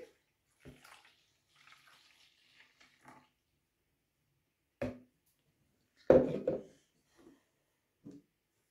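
Water poured from a bottle or container while mixing colored water, heard as a few short splashy bursts with a louder pour near the end amid quiet pauses.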